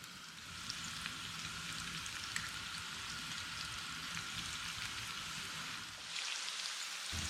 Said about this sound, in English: And this just needs frying gently